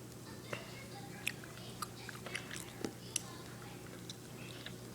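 A puppy chews and bites on its cage, giving sharp little clicks and crunches at irregular intervals over a faint steady hum, with soft speech nearby.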